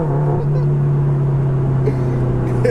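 Inside a sports car, a loud, steady engine and exhaust drone with a strong low hum that holds evenly throughout, close and dominant, with slight changes in roughness and no talking.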